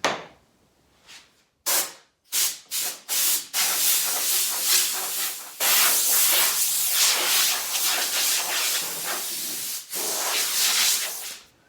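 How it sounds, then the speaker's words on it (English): Compressed air blasts sanding dust off a wooden table being refinished with urethane: several short hissing bursts, then a long, loud, steady rush of air with a brief pause, close by and with no talking. "I'm going to use my compressor and blow that off."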